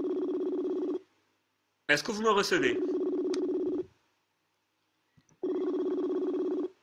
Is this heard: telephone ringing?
yes